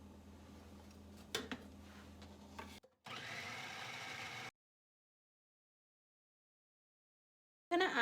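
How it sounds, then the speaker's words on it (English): Food processor whirring as it chops pepper and onion, a steady motor buzz with a brief clatter, a short pause, then a second burst of chopping before the machine stops and goes silent. "we're gonna chop up our pepper and onion and add it to the food processor"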